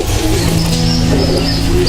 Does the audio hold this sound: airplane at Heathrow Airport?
no